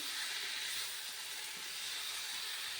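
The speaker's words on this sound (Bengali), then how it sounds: "এই অবস্থাতে আমি ভেজে রাখা ফুলকপি আলুটা দিয়ে দিচ্ছি আবার এগুলি সবগুলি ভালোভাবে মিশিয়ে নেব" Fried cauliflower and potato being stir-fried and mixed in a pan, giving a steady, loud broadband sizzle and hiss that runs continuously without any talking.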